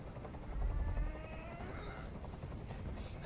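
A helicopter hovers nearby in Detroit: Become Human, a constant low rumbling drone of rotor noise that swells briefly and then holds steady under ambient game sound.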